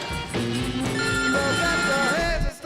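Telephone ringtone chirping loudly and close in a busy setting with a continuous electronic melodic trill, lasting a few seconds, with murmur underneath.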